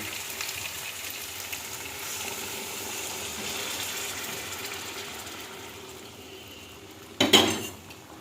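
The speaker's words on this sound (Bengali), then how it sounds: "এবার গরম জল ঢেলে দেবো।" Hot water pours into frying paneer curry in a pan with a continuous hissing sizzle that slowly fades, then a sharp metallic clank of utensil on pan near the end.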